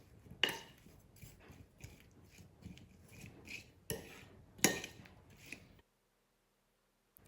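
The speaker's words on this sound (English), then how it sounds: "So I'll grab a spoon and get that mixed through." A spoon scrapes and clinks against a bowl while stirring sesame seeds through a mixture, in an irregular rhythm of taps and rubs, close and quiet, ending in silence.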